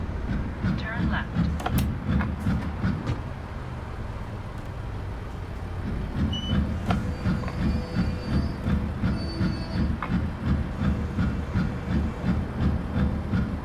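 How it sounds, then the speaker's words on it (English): Freight train rumbling past in American Truck Simulator, heard from a Scania-engined modded W900 truck with the window down, a steady loud low roar with clacking and faint squeals as people talk over it. "Train somewhere. There it is."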